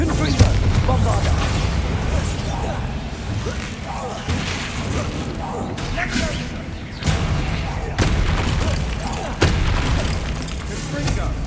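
Confringo and Bombarda spell explosions in Hogwarts Legacy during a fight with spiders: repeated booming blasts and crashes over a dense, rumbling game soundscape, with a few sharper impacts standing out.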